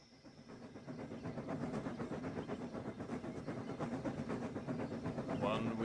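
A steam locomotive hisses and chuffs in a rapid, steady rhythm that grows slightly louder, with a brief high whistle-like squeal near the end.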